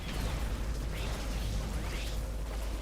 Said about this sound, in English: let's start off with our rocket and grenade launcher